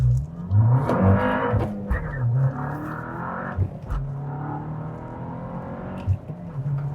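A tuned Volkswagen Golf R MK8 running a 93-octane tune accelerates on the road, the engine note rising and dropping through gear changes, heard from inside the car, loud at first, then settling into a steadier drone.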